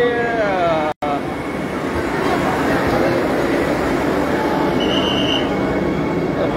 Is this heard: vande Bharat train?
yes